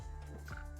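A voice imitates a big chicken character, giving a short, loud, close clucking squawk with a steady pitched hum beneath it.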